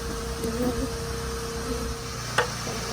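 A steady, droning hum of many honeybees buzzing up close at a decades-old wild hive during removal, with a brief sharp knock partway through.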